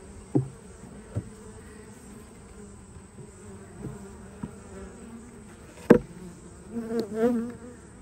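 Bees buzz steadily close by in a bee yard, with a few louder passes and knocks breaking through the low drone.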